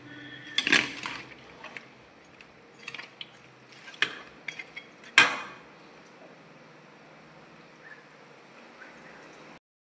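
A spoon scrapes and clanks against a pot while mutton biryani masala, onions and oil are mixed, giving several irregular metallic knocks and scrapes over a faint background, fading out at the end.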